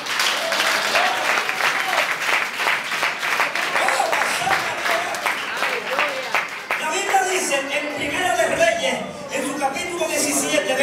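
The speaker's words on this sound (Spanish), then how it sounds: "un aplauso al Señor!" Church congregation bursts into sustained loud applause during an evangelical sermon, dense clapping filling the space with cheers, then fading into scattered claps and voices near the end.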